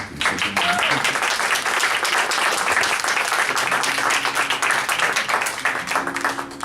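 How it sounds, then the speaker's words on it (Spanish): An audience applauds for a guitarist at a flamenco music appreciation talk, loud, dense clapping that continues steadily throughout, with a few voices faintly mixed in. "un fuerte aplauso para él"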